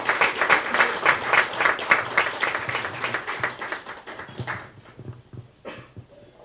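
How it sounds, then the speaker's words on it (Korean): Applause welcomes a lecturer at a talk, a dense burst of rhythmic clapping that thins out and fades over several seconds into a few scattered claps. "예, 큰 박수 부탁드리겠습니다."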